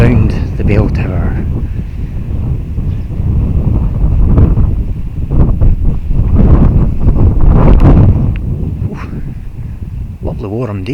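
Wind gusts buffet the microphone on a warm, windy day beside a bell tower, low rumbling blasts that swell and ease beneath someone talking intermittently.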